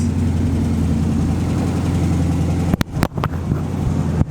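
An LS-swapped Ford Mustang's V8 hums in a steady low drone while cruising at light load around 30 mph, heard from inside the car, with a few sharp knocks and rattles near the end.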